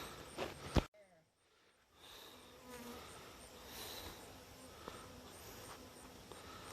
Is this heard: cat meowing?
no